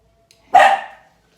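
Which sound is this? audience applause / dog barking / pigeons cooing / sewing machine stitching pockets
dog barking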